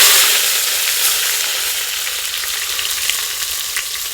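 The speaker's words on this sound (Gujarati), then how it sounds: "તેલ ગરમ થઈ ગયું છે. આ રાઈ જીરું નાખી દઈએ અને હિંગ નાખી દઈએ" Mustard seeds, cumin, asafoetida and curry leaves tempering in hot oil at a village farm kitchen, a loud bright hiss with crackles that eases slightly over a few seconds, no talking.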